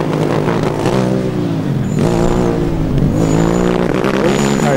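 A Formula Student race car from the Erlangen team races past during a 2009 endurance event, its loud engine note rising and falling with harmonic sweeps, close and continuous, with high whines over the top.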